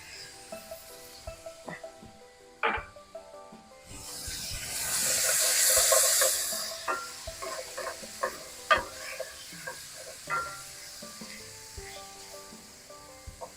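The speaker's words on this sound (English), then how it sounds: "In goes a half a cup of diced tomatoes in its juices." Diced tomatoes in their juices and an onion mix sizzle in a pan for veal paprikash, with a loud hissing burst as the tomatoes go in, then steady frying and scattered stirring clinks, close up, with no speech.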